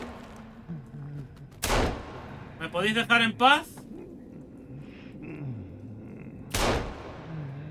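Pistol gunshots in the survival video game Sons Of The Forest, with two sharp loud shots a few seconds apart and a quick burst of rapid cracks between them, under someone talking throughout.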